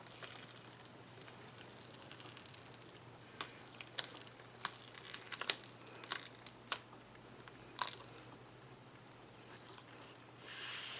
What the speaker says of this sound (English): I'm going to get this vinyl on the transfer tape so it will be ready to go.